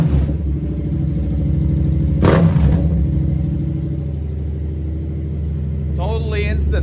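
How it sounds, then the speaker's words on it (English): A tuned 2015 Yamaha FZ-07 motorcycle engine rumbles steadily at close range with one quick throttle blip partway through, and someone speaks briefly near the end. "but look at the revs."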